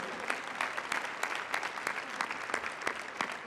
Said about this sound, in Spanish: los invito aplaudir nuevamente a los elegidos